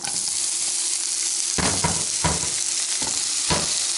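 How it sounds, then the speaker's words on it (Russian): Steady, loud sizzling of onion frying in hot oil, with a few bursts of scraping and stirring in the pan. "Сейчас я налью в сковороду"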